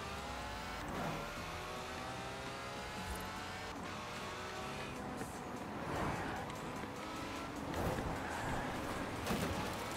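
Race car engines in Forza Horizon 4 drone and whir at low volume, several revving surges blending under faint game ambience with no clear talk.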